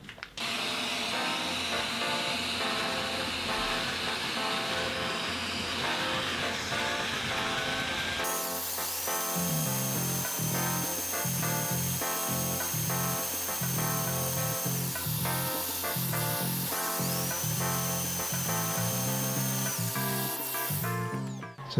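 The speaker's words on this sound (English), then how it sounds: "match the angle again, nice slow speed on the drill, just nice and slow, just follow that all the way through" A power drill whines steadily as it bores slowly through pool table slate, running continuously at close range, its pitch shifting partway through and holding until the end.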